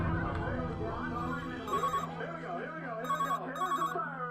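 A telephone rings in short repeated electronic bursts, two or three rings close together, loud and clear over a voice talking underneath with a background music bed.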